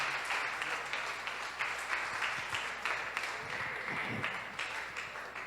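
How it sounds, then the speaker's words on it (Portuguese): A church congregation gives a round of applause during a Portuguese-language service. The clapping is sustained and reverberant with slightly uneven rhythmic peaks, and it carries on steadily throughout. "Uma salva de palmas para Jesus."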